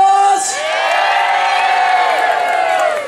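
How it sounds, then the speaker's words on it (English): An outdoor crowd at a Christmas fair in a town square cheers, whoops and applauds for the mayor and Santa Claus, a dense sustained roar of voices and clapping following a brief announcement. "applause for your mayor, Karen Douglas, and Santa Claus!"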